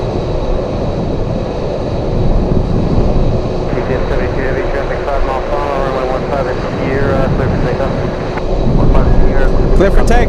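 A heavy cargo jet on its takeoff run from runway 15 at Anchorage in gusty winds, bound for Hanoi, gives a broad, steady engine roar that swells toward the end, with a voice talking over it.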